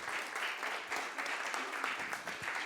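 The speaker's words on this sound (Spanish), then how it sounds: "Un aplauso de cariño para nuestro hermano Freddy," A church congregation claps warmly for a brother, a moderately faint, even patter of applause throughout.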